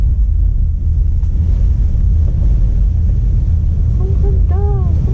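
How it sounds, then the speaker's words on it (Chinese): Strong wind buffets the microphone while skiing in Niseko, Japan, a heavy continuous low rumble and roar. A short voice comes through near the end. "风很大很大。"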